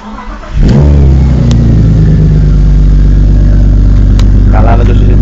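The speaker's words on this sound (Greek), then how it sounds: "Θέλω να ακούσω λίγο ήχο από εξακύλιτρο." A BMW E36 M3 six-cylinder engine fires up close by and holds a loud, throaty rev at steady high revs for several seconds, with faint voices underneath.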